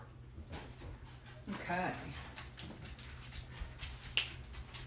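A dog whimpers and whines indoors in a home kitchen, its high thin cries rising briefly in the middle, heard fairly close while a person talks nearby.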